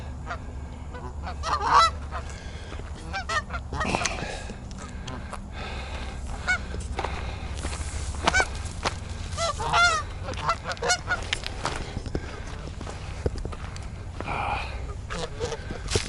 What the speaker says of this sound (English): I'm right filming with these geese. Getting attacked by this gander.